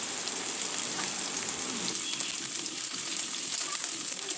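Fish frying in a pan with steady crackling sizzle, a continuous bright spattering hiss at moderate level with no talking.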